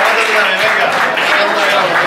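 A crowd at a historic vehicle rally on the Costa del Sol claps in a brief, loud, continuous burst of applause, with voices blended in.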